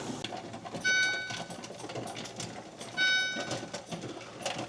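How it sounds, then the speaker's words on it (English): A kitchen timer goes off while salmon is being canned, two short bursts of high electronic beeping about two seconds apart, sharp and clear over a quiet, faint kitchen background. "that's our timer going off, so that's the 10 minutes past"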